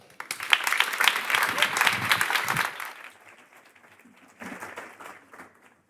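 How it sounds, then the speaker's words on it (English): Audience applause at a tech startup venture day event in Madrid, a strong burst of many hands clapping that fades after a few seconds, then a voice begins speaking over scattered remaining claps. "Please, let's give them a warm applause"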